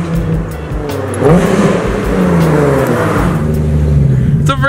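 A Toyota Supra sports car revs its engine as it passes close by, a loud rising then falling roar with a faint tire squeal, heard on its own.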